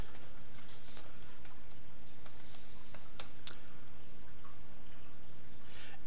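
Steady keyboard typing, light clicks tapping away under a constant hiss of background noise.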